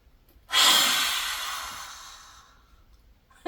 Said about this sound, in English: I'm going to take a deep breath in.